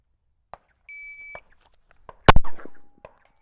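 Shot timer for a firearm drill gives a single steady electronic beep, followed by a sharp loud gunshot and a few small clicks and knocks in an otherwise quiet setting.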